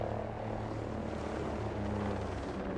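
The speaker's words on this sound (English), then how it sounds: "Hostile chopper coming in hot." A hostile helicopter closes in during a Ghost Recon: Breakpoint firefight, its steady rotor and engine drone filling the scene loudly and continuously with no voices over it.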